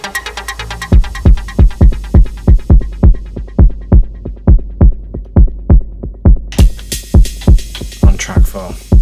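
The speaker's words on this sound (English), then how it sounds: "So it's this big bass sound." A deep Elektron Digitone synthesizer bass pulses in a steady repeating rhythm, each hit swelling and dropping, loud and close, with brighter layers joining near the end.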